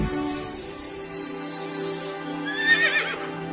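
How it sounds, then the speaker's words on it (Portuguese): A horse whinnies loudly as a sound effect in a Portuguese Bible narration, a rising shrill neigh near the end, layered over a sustained low musical bed. "vi um anjo do Senhor montado num cavalo vermelho"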